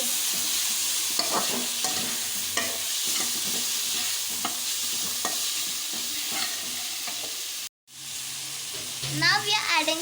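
Onions and tomatoes fry in a pan for aloo dum biryani, sizzling steadily as a spoon scrapes and stirs in repeated strokes. There is a brief silent break, then sharper stirring and a sudden hiss near the end.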